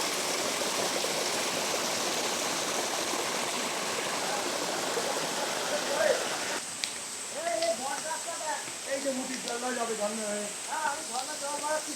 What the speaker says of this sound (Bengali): পাহাড়ের চূড়া থেকে এখানে এইভাবে এই জলটা পড়ছে